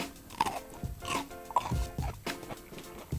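A crunchy bite into an old, long-stored vegetable, with several sharp crisp cracks and chewing sounds close up, no talking.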